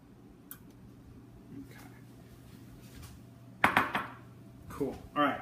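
Pots and pans clank while rice and vegetables are being cooked, a few sharp metallic knocks and scrapes late in the clip over a quiet kitchen hum, with a voice speaking.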